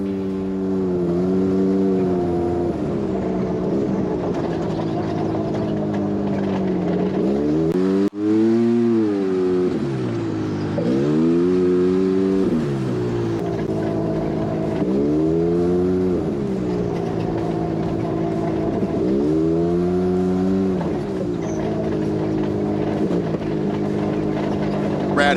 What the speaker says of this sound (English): Right now we're on board with him in his Speed UTV.